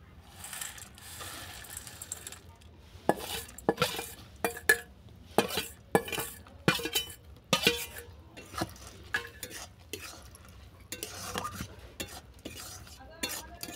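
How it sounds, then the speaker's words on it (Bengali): A spoon stirs fried boondi in sticky sugar syrup in a pan, making close, irregular clinks and scrapes in quick bursts with short pauses. "কিছুক্ষণ নেড়ে চেড়ে ফুটিয়ে নেব।"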